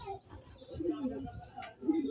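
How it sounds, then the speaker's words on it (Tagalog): Pigeons coo softly and repeatedly nearby, low throaty murmurs rising and falling, with a faint voice in the background. "Basta gutom yung kalapati mga kaibon, mga Stanley Boy, mabilis silang papasukin."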